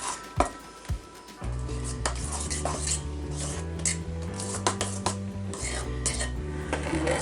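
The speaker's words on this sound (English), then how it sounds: "I'm going to get my spoon and stir it up good." Spoon stirring banana pudding in a bowl, repeated scraping and clinking against the bowl with a low hum beneath, fairly close and continuous.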